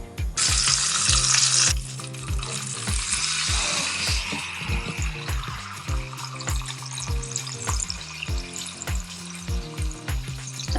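Water poured into a hot oil tempering mixture for khaman dhokla bursts into loud, bright sizzling, then settles into a steady frying crackle with stirring clinks and taps throughout.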